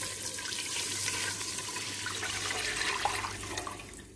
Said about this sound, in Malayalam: ഇനി ഇതിലോട്ടേക്ക് ഞാൻ വെള്ളം ഒഴിച്ച് കൊടുക്കുന്നുണ്ട്.